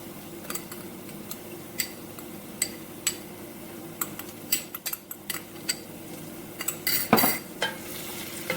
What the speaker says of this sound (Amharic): ሽንኩርታችንን ከዘይቱ ጋር እንዲህ ካቁላላን በኋላ ነጭ ሽንኩርቱን ጨምረዋለሁ